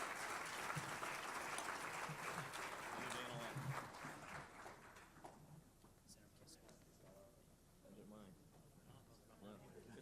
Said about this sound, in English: So let's give our panel a big round of applause.